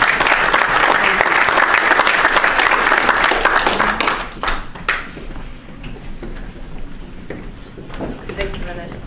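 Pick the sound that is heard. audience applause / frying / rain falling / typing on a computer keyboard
audience applause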